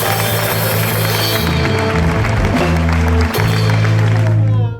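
A studio audience claps on a television show set, a dense, loud, sustained round of applause with music playing underneath before it fades out.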